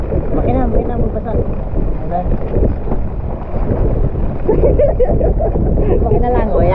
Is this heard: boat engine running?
yes